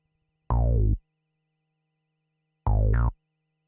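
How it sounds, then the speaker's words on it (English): Two short, punchy bass notes with a bright, slightly distorted synth-like tone, separated by a pause; the second phrase slides upward at its end. "This is the bass line."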